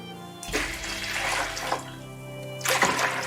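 Soju pours into a garlic scape pickling brine of water, corn syrup and sea salt, a close gushing splash that starts sharply, tapers and then surges again near the end.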